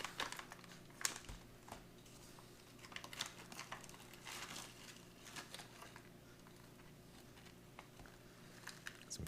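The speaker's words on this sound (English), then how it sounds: "Let's go and rip it open." An MRE oatmeal chocolate chunk cookie bag is torn open and handled, with quiet, irregular crinkling and rustling of packaging and a few sharper rips, close and faint with no talking.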